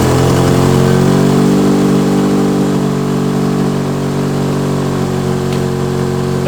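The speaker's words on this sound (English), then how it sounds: "let's see what this thing sounds like with basically most of the exhaust on" A turbocharged 4G15 Mitsubishi Lancer with a custom exhaust, running only the resonator pipe, idles with a deep, throaty exhaust rumble, loud and close, holding steady throughout.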